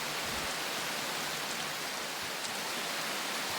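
Heavy rain pours down in a survival video game, a dense, steady hiss that fills the clip at an even, close level with no talking.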